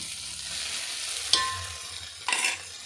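Ginger and garlic frying in a pan for gongura pulao, a close steady sizzle with two brief bursts of stirring scrapes, and no voices.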